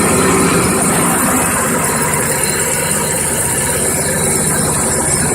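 A small engine, started with a little choke, idles loud and close with a steady, slightly rough chugging rumble that runs continuously with no talk.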